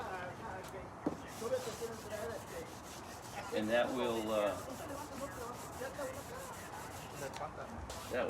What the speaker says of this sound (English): I'm cutting it down with 320 grit dry